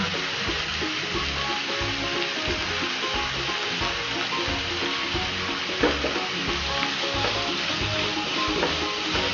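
Onions sauté in a hot pan for an egg roll filling, giving a steady close sizzle and frying hiss with occasional stirring scrapes.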